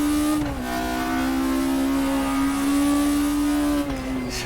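Race car engine in the RaceRoom hillclimb video game, revving steadily at high pitch with small throttle blips, loud and close throughout, briefly dipping near the start and end.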